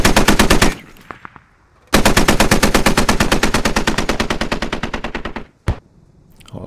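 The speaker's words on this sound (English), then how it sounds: "HMG bunker engaging forces already" A heavy machine gun fires from a bunker in a tactical shooter video game, loud and close in long sustained bursts of rapid, evenly spaced shots with a short pause between bursts and one brief shot near the end.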